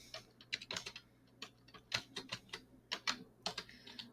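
Rapid computer keyboard typing, a quick run of sharp key clicks in irregular bursts with short pauses, close and fairly quiet, no voices.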